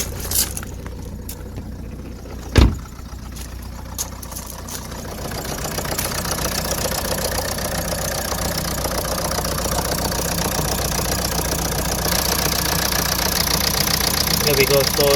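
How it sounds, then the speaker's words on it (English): A Ford S-Max engine idles steadily after a K-Seal head gasket repair, a close, continuous even hum with one sharp knock early on and no talk. "The engine is running a lot more smoother."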